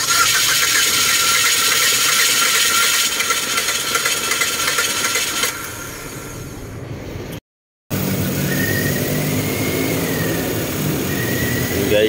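A 2012 Mitsubishi Lancer EX engine, after a faulty ignition coil, cranks and catches, then runs with a loud steady idle nearby, a brief dropout midway, and people talking in the background.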